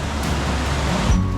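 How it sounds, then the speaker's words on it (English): Waterfall on a river beside a hiking trail, a steady, loud broadband rush of falling water that fills the whole short stretch. "Boah, siehst du Wasserfall?"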